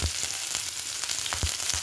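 Onions and green chilies sizzle in hot oil after mustard seeds have popped, a steady hissing fry with occasional soft crackles and spoon scrapes, close and alone without talk.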